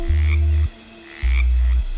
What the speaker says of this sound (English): Hear the frog.